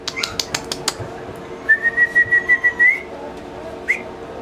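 A person whistles a long sustained tone with a few short pitched notes, preceded by quick sharp clicks and taps nearby.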